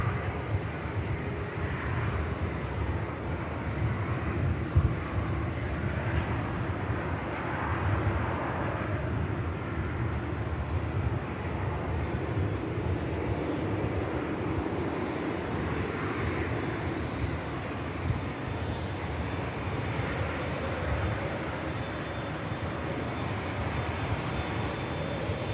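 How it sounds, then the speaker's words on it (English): Jet engines spool up and roar steadily at Manchester Airport as an aircraft prepares to depart, a broad, continuous rumble that holds at a fairly even, moderate distance for the whole stretch. "And just spooling the engines up is that Virgin Atlantic about to cross the active runway just before this next departure"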